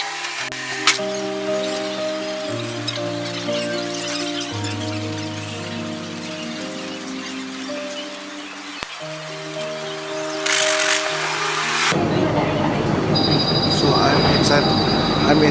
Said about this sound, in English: I'm inside the sky train now.